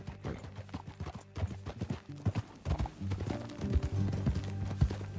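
Horse hooves clip-clop in a steady riding rhythm in Red Dead Redemption 2, close and clear, with a brief whinny and low ambient game sound underneath.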